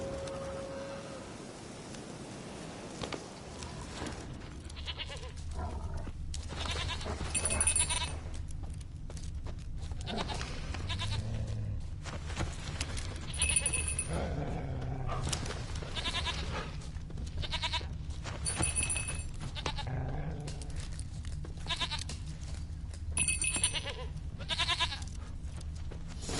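A goat in The Witcher 3 bleats repeatedly at irregular intervals, short nasal cries over a low ambient game soundscape, fairly close and quiet, without speech over the calls.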